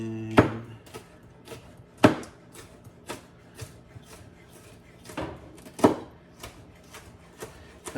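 A knife slices ingredients for a spicy Thai red curry chicken casserole on a cutting board, giving a steady series of close, crisp chops, some sharper and heavier than the rest, with no voices.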